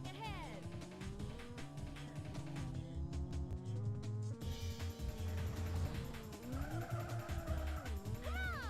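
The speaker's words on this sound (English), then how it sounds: "It's hard to control the car." A race car in a space-themed video game skids and revs, with tire squeal over a constant engine drone and game music, loud and steady throughout.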